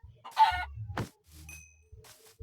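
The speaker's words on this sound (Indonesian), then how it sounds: "Sini ada banyak ayam ya." Chickens cluck in a video game, several short clucks and a crow-like call in bursts separated by brief gaps, fairly close and clear with no talking.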